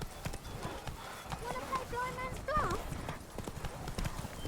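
Horse hooves clip-clopping in The Witcher 3: Blood and Wine, a quick steady rhythm of close thuds with a brief whinny partway through and someone talking over it.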